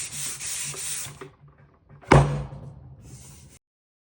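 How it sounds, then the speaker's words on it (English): Sanding the top edge of a painted wooden blanket box coated in chalk paint, heard as a steady close abrasive rub for about a second, then a sharp knock and a second scrubbing pass that fades out. "I want to sand anything on the top edge, that any extra paint that might have slipped inside"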